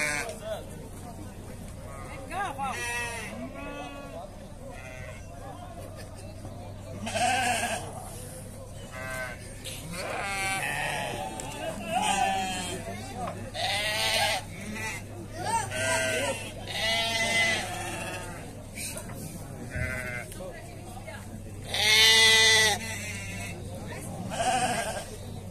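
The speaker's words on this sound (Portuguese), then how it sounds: "E tem bastante ovelha também aqui." Sheep and goats bleat repeatedly amid a busy outdoor sheep livestock fair in Dois Riachos, Alagoas, with cattle-like calls mixed in, crowd noise and people talking throughout, one loud close bleat near the end.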